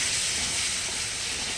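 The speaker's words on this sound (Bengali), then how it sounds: "ভালো করে মশলাটাকে কষিয়ে নেব" Masala for a fish curry fries in a pan, giving a loud, steady, hissing sizzle that carries on without a break, close and without talking.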